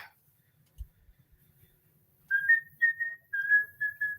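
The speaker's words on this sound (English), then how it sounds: "Whistles do not translate well on microphones" A person whistles a short, clear tune of a few sustained notes close to a microphone after a moment of near silence and a faint click.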